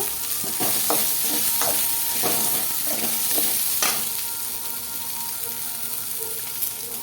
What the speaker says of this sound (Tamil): வெங்காயம் நல்லா வணக்கிக்கோங்க வெங்காயம் நல்லா வணங்கணும்